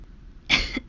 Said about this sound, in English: He coughed a bit into his fist